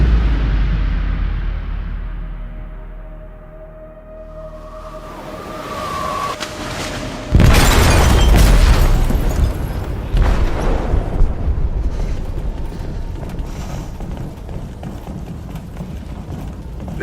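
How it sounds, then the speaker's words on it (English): A bomb blast deep in a ship's hold in Detroit: Become Human erupts as a sudden, loud, broadband boom, followed by a long rumbling roar of rushing debris and water that stays loud to the end, with a tonal hum beforehand. "They detonated an explosive in the hold."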